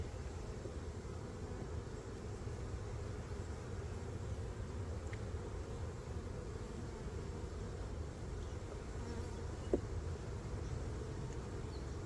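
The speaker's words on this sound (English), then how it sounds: "Lots of bees." Low, continuous buzzing of many honey bees around open hives at an apiary in hot, humid weather, a steady droning hum with no breaks.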